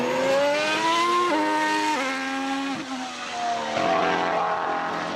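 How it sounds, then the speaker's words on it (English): Turbocharged V6 Formula One engine screaming at high revs, its pitch stepping down through several quick gear changes before climbing again, heard fairly close without any talk. "Or the sound of a turbocharged V6."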